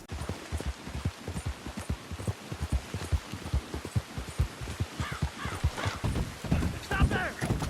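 Horse hooves clip-clopping in steady, quick rhythm on the ground in the Red Dead Redemption game, close and continuous, with a rider's voice calling over them.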